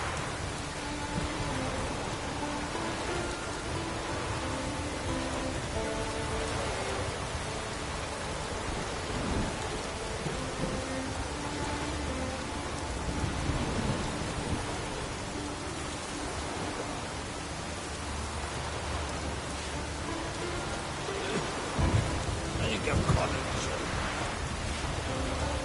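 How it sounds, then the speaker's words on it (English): Steady rain with occasional low rumbles of thunder inside The Witcher 3 video game. The hiss is soft and constant, with some faint background voice. "Oh, raining again."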